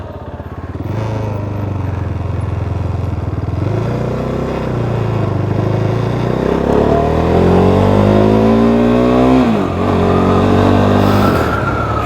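A KTM 390 Duke single-cylinder motorcycle, just back together after throttle body work, idles and then revs up loudly and close, the pitch climbing steadily before dropping off and rising again.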